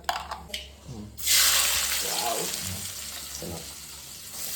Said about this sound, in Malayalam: എനിക്ക് എണ്ണയിൽ എന്തെങ്കിലും സാധനം ഇട്ട് ഒരു ഒച്ച വെക്കില്ല, അത് ഭയങ്കര ഇഷ്ടമാണ്.